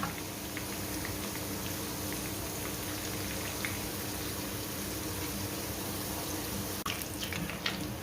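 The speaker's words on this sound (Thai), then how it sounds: "เราจะเริ่มจากการเจียวหอมกันก่อนนะคะ เจียวให้เหลืองกรอบนะคะ" Shallots sizzling in hot oil as they fry until golden and crisp, a constant dense crackling hiss with a few sharper spatters near the end.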